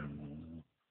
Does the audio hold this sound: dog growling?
yes